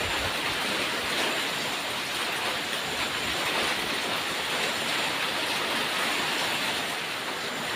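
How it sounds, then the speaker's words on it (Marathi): Heavy monsoon rain falling in Konkan, a loud continuous wash of rainfall without pause, with no talk. "जेवढा पाऊस अख्ख्या पावसाळ्याच्या सीझनमध्ये नाही पडला आहे ना तर तेवढा आत्ता पडतो आहे"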